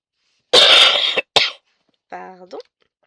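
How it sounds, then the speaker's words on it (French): A person coughs hard twice close to the microphone, then follows with a short voiced throat clearing, with silence between. "Bon, ça va quand même mieux, hein, mais je tousse encore."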